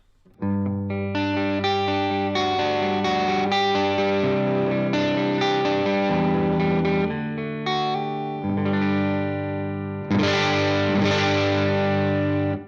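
Gritty, crunchy electric guitar chords on the neck pickup ring out through a Headrush MX5 with effects placed before the amp, saturated and distorted, played steadily with a final strummed chord.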